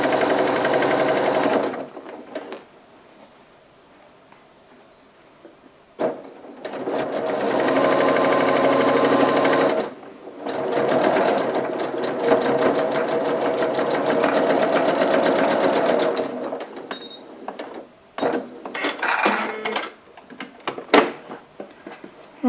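A sewing machine stitches quilt sashing strips with a quarter-inch seam, running in several long steady bursts separated by short pauses, close and loud with no talk.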